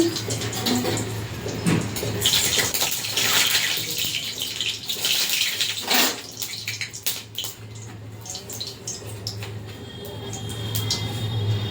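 A broken dried chilli fries in hot oil in a kadai for a prawn and jute-leaf curry, making a continuous loud, close hiss that fades a little midway and then swells again.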